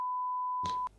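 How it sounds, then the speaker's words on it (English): A censor bleep covers a spoken name: one clean, steady electronic tone lasting just under a second, cut off sharply and followed by a brief burst of room noise. "Every time you say his name, I've got to beep it out."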